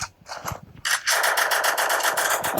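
Video game gunfire starts after a few scattered mechanical clicks and becomes a rapid, even burst of automatic shots that is loud and close and continues to the end.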